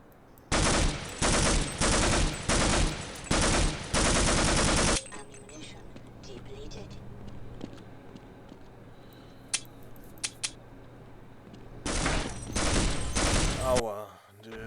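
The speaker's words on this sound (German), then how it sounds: "Aua, die schießen mich über den Haufen." Gunfire in the video game Half-Life comes in loud, rapid automatic bursts at the start, then a quieter stretch with a few isolated shots, and another sustained burst near the end.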